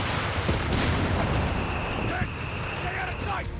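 A StuG assault gun and a mortar half-track fire in a Company of Heroes 3 battle, giving a continuous, loud wash of shots and impacts with unit voice lines and commentary over the top.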